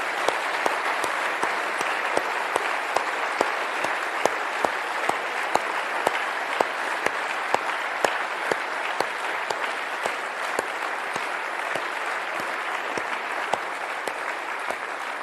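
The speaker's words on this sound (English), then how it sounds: "would like to give you, as a present coming from our heart, a big round of applause" A large audience in Switzerland gives sustained applause at a formal monetary policy event, dense, even clapping with sharper individual claps standing out, no voices.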